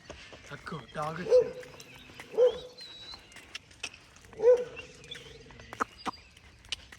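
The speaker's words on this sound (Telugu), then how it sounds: "ఆ కుక్క చూడండి ఎట్లా మొత్తుకుంటుందో" A dog gives three drawn-out wailing yelps spaced a second or two apart, mid-distance, over an outdoor background with scattered clicks and noise.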